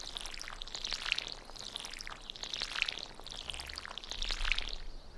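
Watering a newly planted cauliflower in the farming game Stardew Valley, heard as three soft, hissing splash bursts in a steady rhythm, fairly quiet with no talking.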